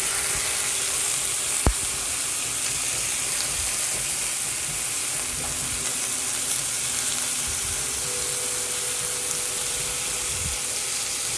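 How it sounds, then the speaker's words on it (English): Ground beef sizzles as it browns in a hot pan for Korean beef bowls, a steady close hiss and crackle with no letup, broken by one brief sharp tap of a utensil. "Now we are going to have to wait for all of this beef to brown"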